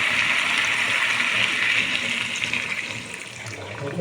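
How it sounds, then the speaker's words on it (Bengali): Water pours steadily into a pot of chicken curry with potatoes, a loud, close, continuous gushing stream that eases slightly toward the end, with no voices. "এখন আমি এর মধ্যে জল অ্যাড করে দেবো"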